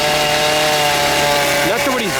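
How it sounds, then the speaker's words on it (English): A chainsaw runs at the chainsaw-carving area of the Iowa State Fair, a loud, steady buzzing engine drone with a brief revving pitch sweep near the end as the blade works into wood. "An area of the fair dedicated to chainsaw carving."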